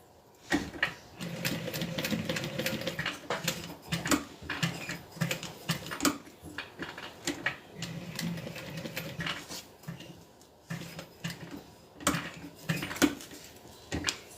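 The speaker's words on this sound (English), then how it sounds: "And we're just going to sew all the way around." Sewing machine stitching all the way around a tote bag, loud close whirring runs that repeatedly start and stop with short pauses and clicks between them, with no voice present.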